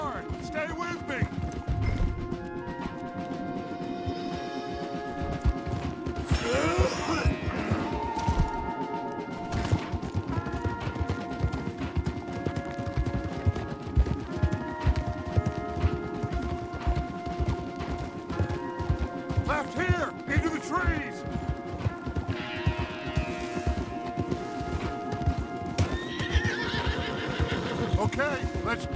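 Horses in Red Dead Redemption 2 neigh and whinny while their hooves clip-clop in a hard ride. A dense bed of music and action noise runs underneath, with shouted speech over the top.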